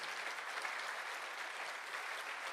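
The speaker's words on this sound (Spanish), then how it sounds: "Bendito, dale un aplauso al Señor." A church congregation claps together in a sustained burst of applause, a dense, steady wash of many hands at moderate distance with no break.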